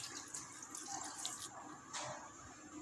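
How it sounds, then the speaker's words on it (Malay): Water poured into a blender jar over biryani spice ingredients in a home kitchen, a steady splashing trickle with brief louder gushes, fairly close and with no talk over it. "Masukkan sedikit air untuk kisar."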